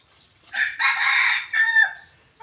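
Young chickens about three months old crow and cluck nearby in a few loud bursts, with a long crowing call in the middle and short squawks around it.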